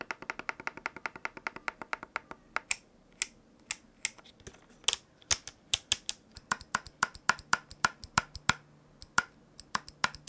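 Crisp plastic racing wheel button clicks in a rapid, uneven stream, sharp and close against a quiet background, with no voices.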